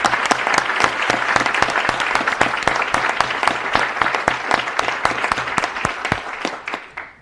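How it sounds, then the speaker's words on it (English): A room at a state higher-education commission meeting gives a round of applause for Dr. DiPietro: loud, steady clapping with distinct individual claps, tapering off at the end. "I'd like to give him a round of applause"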